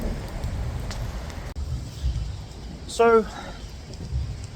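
Steady rain patters in the background throughout, with a brief spoken word cutting in partway through.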